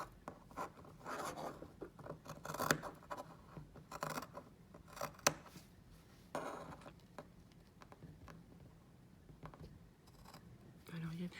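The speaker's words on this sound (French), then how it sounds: "Là, je coupe assez près." Scissors snipping through fabric close to a sewn seam, working around points while sewing for animals; short crisp cuts come in irregular bursts near the microphone, with faint scraping between them.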